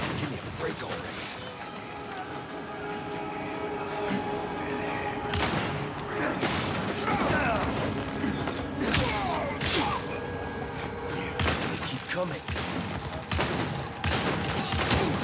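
Rapid bursts of gunfire from Resident Evil 4 on Professional difficulty with infinite ammo, including the Broken Butterfly revolver, crack out in dense clusters over game sounds while someone talks.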